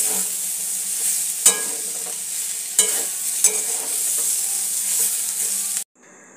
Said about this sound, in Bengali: আলু ভাজার মধ্যে যদি একটু পেঁয়াজ ভেজে নাও একসাথে